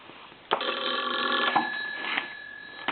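A country line telephone's mechanical bell rings in a sustained metallic burst, loud and close, starting abruptly and fading with a brief clatter near the end.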